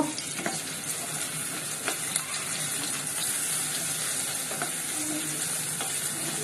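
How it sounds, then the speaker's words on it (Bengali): Onions fry in a pan as the base for a Bengali egg korma, making a continuous close sizzle with occasional stirring scrapes and clicks throughout. "কোরমাটা বসানোর জন্য এইখানে আমি পেঁয়াজটা আগে ভেজে নিচ্ছি।"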